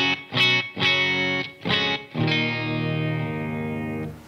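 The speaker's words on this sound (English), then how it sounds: "this is the clean tone in the Black Star." A clean electric guitar tone through a Blackstar amp: several short picked chords ring out in rhythm, then a final chord sustains and slowly fades, loud and close with no talking.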